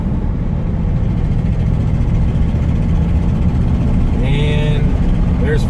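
A classic car cruising in fourth gear at around 34 mph, heard from inside as a steady, loud low engine and road drone with constant rumble throughout.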